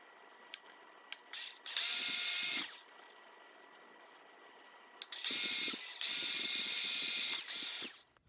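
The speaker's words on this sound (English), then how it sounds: "So I'm going to take this drill bit and puncture some holes through here." A small handheld drill buzzes in two bursts while puncturing holes in a mask, the first about a second long, the second longer, with a few sharp clicks before and between.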